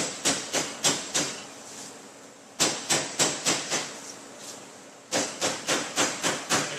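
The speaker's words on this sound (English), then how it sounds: "take your hammer, come back, and just gently beat down on it" Sharp metallic hammer strikes on a sheet metal cleat in three quick bursts of about five or six blows each, with short pauses between groups, close and fairly loud.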